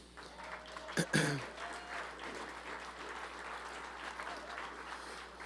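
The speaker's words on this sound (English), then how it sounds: "let's all give another round of applause to the two who created Carlton" Applause from an audience at a celebration of life rises and holds steady as a soft, distant wash of clapping, with one sharp louder knock near the start.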